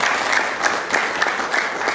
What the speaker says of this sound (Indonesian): tepuk tangan untuk Yoyan Bapak